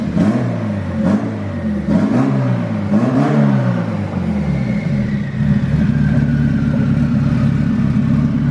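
A Honda Civic D16Z6 engine with a Brian Crower cam and Hondata flex-fuel E85 tune revs on a dyno, climbing and falling in several loud, rising pulls before settling into a rough, steady idle.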